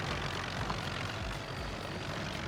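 A Ford tractor engine in the video game Farming Simulator 19 works a field for rice planting, heard as a steady, faint, low drone with no voices.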